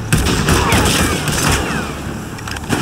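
Gunfire in the Company of Heroes 3 video game with a US mechanized battlegroup: dense, continuous volleys of rapid shots and booming blasts, loud and close, filling the whole short stretch without a break.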